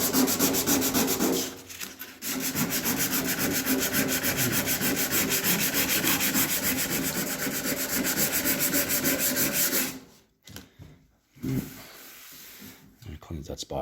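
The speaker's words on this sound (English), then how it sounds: "This is 150 grit sandpaper" Sandpaper of 150 grit rubs back and forth by hand over the front fender of a 1966 Chevrolet Impala SS, a loud, continuous scratchy scrubbing with short breaks, while someone talks over it.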